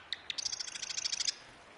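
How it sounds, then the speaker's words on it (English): Birds chirp in the video game Season: A Letter To The Future, a quick run of bright, repeated tweets in a short burst, moderately near against a quiet background, with no talk. "I hear, like, birds and stuff."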